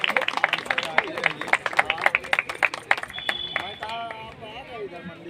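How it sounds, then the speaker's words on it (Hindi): Audience at a staff award ceremony in India claps in a dense, lively patter of many hands, with bright sharp bursts fading as an announcer begins speaking near the end. "तालियां बजती रहनी चाहिए।"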